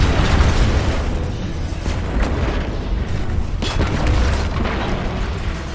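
A Goliath tank explodes in the video game Destiny 2: a loud, dense booming blast with rumbling debris that sustains without a break for several seconds, up close and without speech.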